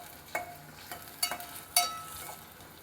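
Ginger garlic paste frying in a pan, a faint low sizzle punctuated by a few sharp spatula scrapes and taps against the pan.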